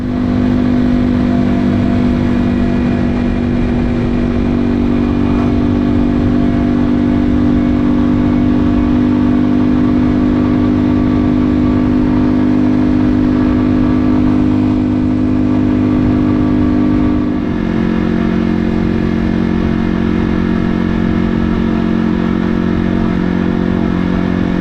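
A Janus Griffin 250 scrambler motorcycle is ridden, its small single-cylinder engine droning loud and close throughout with steady throttle and a shift in pitch partway through, wind and road noise mixed in.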